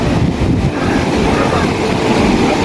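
Water thunders out of the opened gates of EMD Dam after heavy rain in a loud, unbroken roar, with wind buffeting the microphone the whole time.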